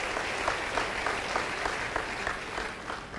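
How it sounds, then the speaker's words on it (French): A church congregation at a service claps steadily together, a continuous moderately loud patter of applause that keeps a rhythmic pulse, with no talking over it. "Acclamons le Seigneur."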